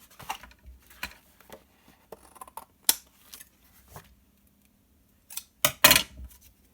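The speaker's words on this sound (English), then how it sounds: "And then we cut off all the little" Scissors snip off small paper overhangs on a scrapbook layout, giving a few quiet, scattered cuts followed by a louder cluster of sharp snips near the end.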